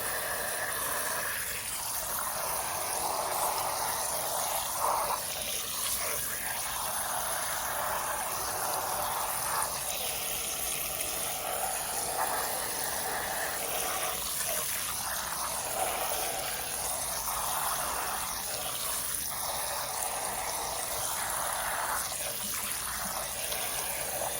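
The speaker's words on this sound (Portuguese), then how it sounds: "Para encher bem com água, porque como ele vai hidratando, vai ficando para fora." Water runs steadily into a pot being filled to cook a pork leg on the stovetop, a continuous close trickling and gushing flow that shifts slightly in tone as the level rises, with no talking.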